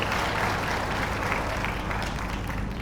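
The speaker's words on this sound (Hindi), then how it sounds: "जोरदार उनके लिए भी एक ताली" Steady applause from an audience at a Gahoi Samaj community gathering on Independence Day, a dense continuous wash of clapping at even loudness over a low background hum, with no voices.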